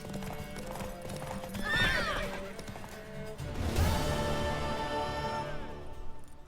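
Horse hooves clip-clopping and a horse neighing in The Witcher 3, in a race with a mare; a shrill whinny rises over steady galloping hooves and game music, then the hooves continue loudly.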